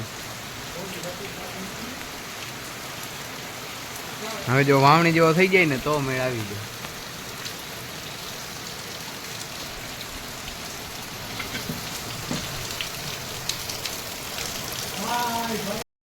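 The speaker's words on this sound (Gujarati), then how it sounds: "હવે થોડા છાંટા આવે છે અને પવન અત્યારે ઘણો નીકળ્યો છે" Steady rain driven by strong wind over open village farmland, a continuous broad hiss and rush that runs the whole time, with someone talking briefly near the middle and again toward the end.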